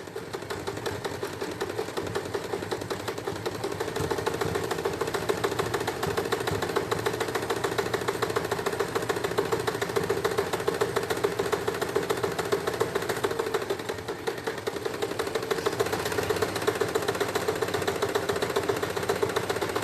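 Sewing machine stitching a seam with a backstitch on fabric for children's shorts, a steady close motor hum with rapid needle chatter running continuously, with a slight change in pitch partway through.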